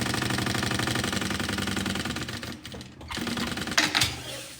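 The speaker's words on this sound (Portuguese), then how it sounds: "Faço essa costura bem retinha até o final." Domestic sewing machine running a straight seam to the end of a fabric bag panel, a steady close mechanical chatter that briefly stops then resumes with a few louder clunks.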